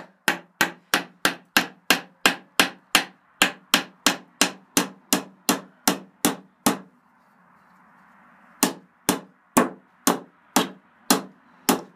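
Hammer driving nails into wood during a building job, a steady run of about twenty sharp close blows, then a short pause with faint rustling before five more strikes follow.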